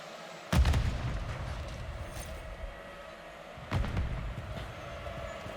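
Two heavy, booming blasts from a Semtex grenade explosion and gunfire in Call of Duty MW3 land a few seconds apart, each trailing into a low rumble, over steady game ambience with no talking.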